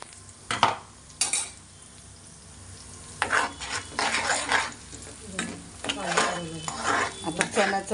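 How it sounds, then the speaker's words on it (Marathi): Ground spice paste sautés in oil in a pan, loud sizzling bursts mixed with repeated spatula scrapes and clanks against the metal, with no voices. "वाटण चांगलं परतून घ्यायचं तेलामध्ये।"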